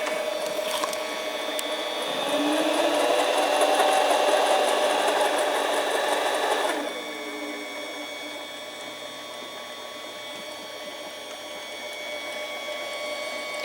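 A Harbor Freight 7x10 mini lathe spins an aluminum tube without cutting, a steady machine whine and hum with rattling from the live center that swells for several seconds, then drops to a quieter constant running tone.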